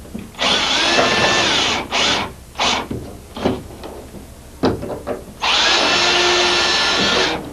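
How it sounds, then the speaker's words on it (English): A cordless power drill pre-drilling and then driving a screw into a shower stall, loud close whirring bursts of varying length separated by short pauses, the final run long and steady. "We'll pre-drill that and then shoot a screw into it."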